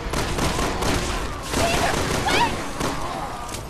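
Enemy gunfire in the co-op video game Resident Evil 6: a loud, steady fusillade of rapid shots running throughout, with players talking over the shooting.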